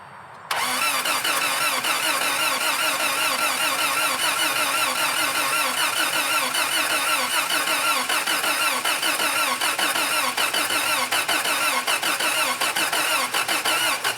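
The engine of a 1984 Toyota SR5 pickup, parked for 23 years and primed with starting fluid, cranks over loudly in an even, rhythmic churn that runs without pause for about fourteen seconds.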